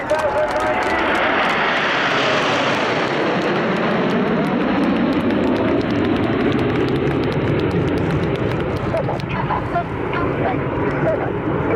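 Red Arrows display jets at the Cosford Airshow sweep past in formation, a loud roar swelling and slowly fading as they climb away, with an announcer talking over it.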